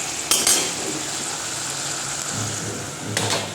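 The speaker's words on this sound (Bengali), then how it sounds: "আর রাতে রাখো করছি আলু ভাজা, এখানে বসিয়েছি একটুখানি মানে ডিপ অয়েলেই আর কি ভাজার চেষ্টা করছি" Potatoes coated in salt and turmeric deep frying in oil, giving a steady sizzling hiss, with a couple of brief utensil clinks near the start and end.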